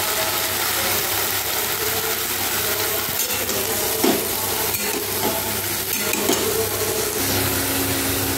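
Vegetables fry in a pan with oil for a mutton lunch, giving a steady close sizzle with occasional scraping stirs and clicks throughout and no talking.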